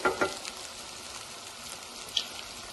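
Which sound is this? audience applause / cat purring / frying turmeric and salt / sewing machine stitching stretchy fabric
frying turmeric and salt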